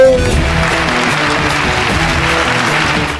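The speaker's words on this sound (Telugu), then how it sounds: "గట్టిగా చప్పట్లు" A game show studio audience claps loudly and steadily, a dense wash of applause close and continuous for a few seconds before trailing off.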